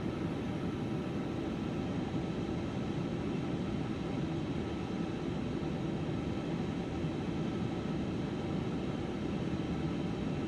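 Airliner engines idle before takeoff in Microsoft Flight Simulator 2024, a steady, even, low roar with a broad hiss that holds unchanged throughout, with no talking.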